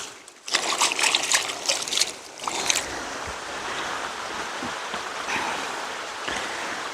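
Irrigation water flowing around someone's feet in a vineyard plot, a loud rushing splash for the first few seconds that settles into a steady close trickle and gurgle, with no talking.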